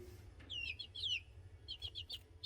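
Three-week-old chicks, large and feathering out in a backyard coop, give short bursts of high chirping peeps in two quick clusters, faint against a low background hum.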